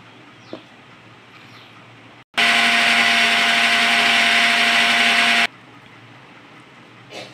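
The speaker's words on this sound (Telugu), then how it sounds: "ఈ విధంగా మనం మెత్తగా గ్రైండ్ అనేటటువంటిది చేసుకోవాలి" A mixer grinder whirs loudly and steadily for about three seconds, grinding coconut, raw mango, sesame and turmeric into a smooth chutney, then stops abruptly to quiet.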